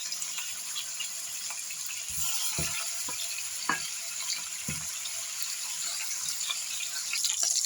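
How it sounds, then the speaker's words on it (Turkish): Steady sizzle of washed meat frying in melted butter, with a few sharp clinks and stirring knocks, close by and fairly quiet, no talking. "tereyağı iyice eridikten sonra şöyle yıkamış olduğum etleri içine koyuyorum ve kızartmaya geçiyorum"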